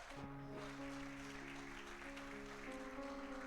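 A church congregation claps together during a worship service, a steady, fairly quiet wash of applause over sustained keyboard or organ chords that last the whole moment.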